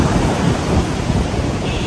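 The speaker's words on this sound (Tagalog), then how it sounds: "hindi ka makapagligo kasi ang lakas ng alon" Strong surf pounds a beach just after a storm, a steady, loud roar of breaking waves with gusting wind buffeting the microphone throughout.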